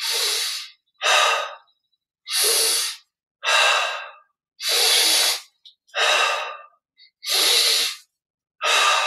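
Slow, deep breaths drawn in and let out during a guided yoga relaxation exercise: about eight distinct, evenly paced breaths, each a close, airy rush separated by short silences, with no talk.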